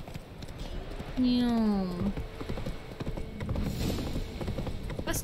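Horse hooves clip-clop in a video game (The Witcher 3) as the rider sets off, steady hoof beats under a loud sung or hummed tone and talk.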